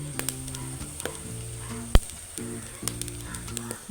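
Onions with salt sizzle and fry steadily in a pan for ginger curry, a continuous crackling hiss with scattered sharp pops and brief stirring clatters, close and fairly quiet, with no talking.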